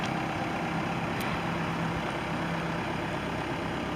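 A 2007 LULL 944E-42 telescopic forklift with a 4-cylinder 110-horsepower Cummins turbo diesel idles steadily at a moderate distance, a low even rumble with no voices.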